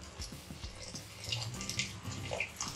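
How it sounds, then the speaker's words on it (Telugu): Water is drained from par-boiled rice for biryani at home, a soft continuous splashing pour with a few light drips, faint and close. "ఇంకా నీళ్ళన్నీ వంచేసుకొని షిఫ్ట్ చేసేసుకోండి"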